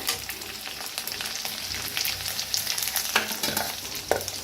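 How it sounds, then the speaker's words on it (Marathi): Chopped onion frying in hot oil in a pan, a steady close sizzle with repeated scraping stirs of a spatula, no talking. "आता त्याच्यातच कांदा भाजून घेऊया। कांदा बी चांगला असा भाजून घ्यायचा।"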